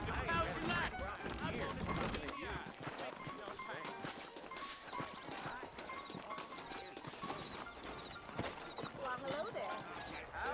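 Horses saddled for a ride in Red Dead Redemption clip-clop steadily throughout, mixed with an occasional whinny and a busy backdrop of game sound and speech.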